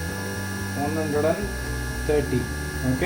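A 1000W BLDC motor kit on a petrol bike converted to electric, whining steadily as it spins up, with someone talking over the hum.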